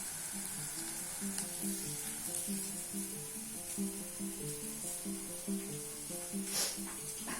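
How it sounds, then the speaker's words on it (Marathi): Onion frying in a pan, giving a soft steady sizzle and hiss over a low tonal hum in the background, with no talking. "कांदा आता भाजत आलाय."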